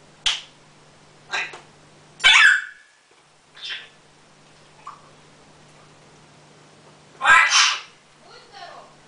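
Several short, sharp sneezes burst out at irregular intervals, one or two noticeably louder, against a quiet indoor background with a faint steady hum.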